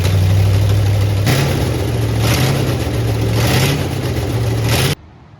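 A rebuilt Mustang engine, assembled from the block with new bearings and crank, runs loud and close with a steady low rumble and a few mild revs before cutting off abruptly near the end.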